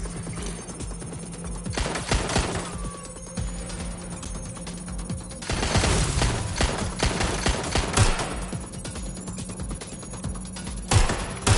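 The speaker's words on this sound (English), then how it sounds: "Watch out! Shots fired!" Video game gunfire on a PS4 during a security-breach mission, heard as dense, rapid bursts of shots with heavy bangs around the middle, set over a steady electronic hum and game sound effects.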